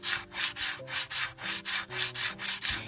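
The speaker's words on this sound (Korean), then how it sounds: "이렇게 나무결 방향으로 사포질을 하셔야지 나무에 거친 자국이 다시 남지 않습니다." Sandpaper rubbed along the grain of carved wood, about a dozen even back-and-forth strokes in a quick steady rhythm, close and alone.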